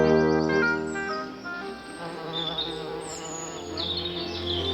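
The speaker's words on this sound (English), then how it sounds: "As spring becomes summer, the insects take center stage." Insects buzz loudly and continuously on a summer island in Essex, a dense droning hum close by with wingbeats rising and falling as they move, and no voices.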